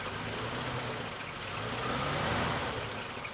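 A 1947 Chrysler New Yorker engine runs at a steady idle, a continuous close rumble with a slight swell in revs partway through.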